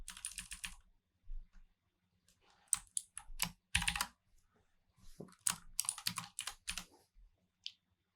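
Bursts of computer keyboard typing with clustered key clicks and short pauses between runs, close and clear, no voices.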